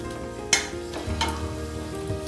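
Aniseed, green cardamoms and bay leaves sizzle in hot oil in a pan while being stirred for matar pulao, with a steady fry hiss and a couple of sharp scraping clatters from the spoon.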